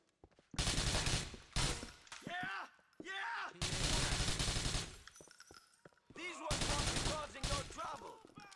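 SMG gunfire in Grand Theft Auto 4, several loud bursts of rapid automatic fire separated by short pauses, with a voice speaking between the bursts.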